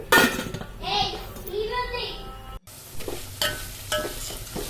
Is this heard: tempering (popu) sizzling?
yes